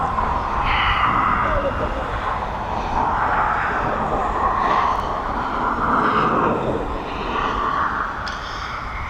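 An aircraft flies a right-hand circuit at East Midlands Airport, its engines a loud, steady broadband roar that holds constant throughout with slight swells and no pauses.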